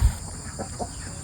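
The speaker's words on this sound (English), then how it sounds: "There's quite a few chickens who are on the outside." Outdoor homestead chickens clucking in short, soft bursts, close by and fairly quiet, with a low thump at the start and no talking.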